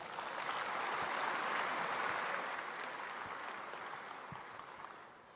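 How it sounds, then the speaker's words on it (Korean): An audience at the Korea International Trade Association's Trade Day ceremony applauds in a broad, steady wash of clapping that swells and then tapers off. "여러분 박수로 맞아주시죠"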